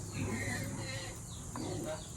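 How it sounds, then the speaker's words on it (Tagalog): Faint chirping of newly hatched chicks mixed into steady background noise, with a bit of murmured talk nearby. "Mga bagong pisa na manok."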